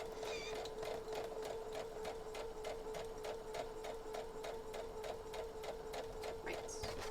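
A sewing machine runs steadily while stitching a T-shirt quilt, its needle knocking in a fast, even rhythm over a constant motor whine, fairly quiet and close, with no voices.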